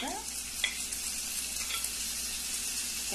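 Carrot hits a hot frying pan for a Christmas farofa and sizzles loudly and steadily, with a brief scrape of stirring near the start and a constant crackling fry throughout.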